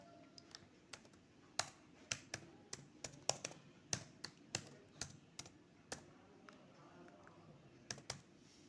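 Someone types a username and password on a computer keyboard while installing Kali Linux alongside Windows. Quiet, irregular keystrokes come in scattered bursts with pauses, some taps sharper than others, in a quiet room.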